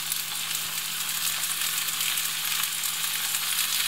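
Tomatoes and pepper fry in a hot pan for shakshuka, a steady dense sizzle crackling without pause, close and fairly loud, with a faint low hum beneath.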